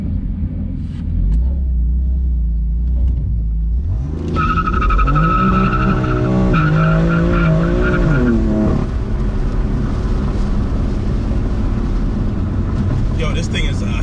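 A BMW M4 Stage 1 breaks traction, its engine revving high and rising while the tires spin and squeal, loud and close from inside the car, settling into a steady drone.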